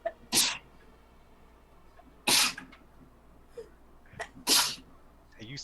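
Three loud, sharp sneezes from a person at a tabletop game session, spaced about two seconds apart, each a sudden burst, with quiet room sound between.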